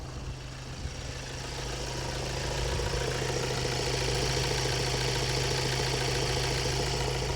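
A Ford Transit Luton van's diesel engine idles steadily with a low, even rumble and faint knocking, holding constant and close throughout with no one speaking.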